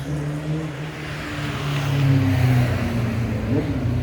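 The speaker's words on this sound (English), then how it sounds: "No way there's another motorbike." A motorbike passes close by on a street during a walk, its engine drone swelling to a peak midway and then easing off.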